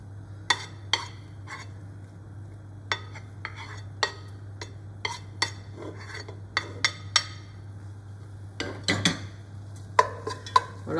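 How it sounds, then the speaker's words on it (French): Bacon lardons cook in a pot with a little olive oil, giving a low, faint sizzle under scattered clinks and scrapes of a utensil stirring against the metal. A steady hum runs underneath. "je vais commencer à mettre les lardons à revenir"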